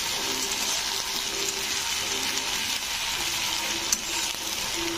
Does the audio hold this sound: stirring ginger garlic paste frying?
yes